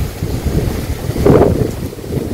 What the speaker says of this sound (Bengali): আর বাতাসটা ছাড়ছে, একদম ঠান্ডা পরিবেশ, খুব সুন্দর বাতাস